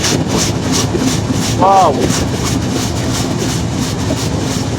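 A passenger train on the Joydebpur to Chilahati line rolls into Ibrahimabad station, a loud steady rumble of wheels and carriage noise with a brief tonal squeal partway through.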